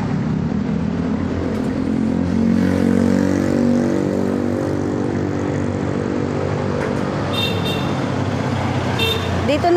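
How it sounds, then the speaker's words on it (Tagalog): Steady road traffic rumbles past a large school in the Philippines, with engines droning, a few brief horn toots, and someone talking over the continuous noise. "Ito yung daanan ng mga sasakyan"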